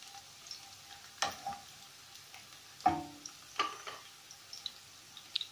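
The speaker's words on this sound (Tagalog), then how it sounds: "Yan yung garlic. Pa-brown lang natin siya ng konti." Garlic browning in a pan on a stove for Filipino ginisang monggo, with soft sizzling and a few separate crackles and pops that are fairly quiet and scattered, and no talk.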